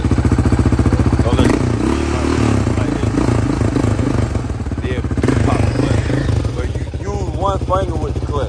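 A Yamaha Raptor 700 ATV engine revs and idles loudly up close, its rough throbbing pulses rising and falling, while people talk over it throughout.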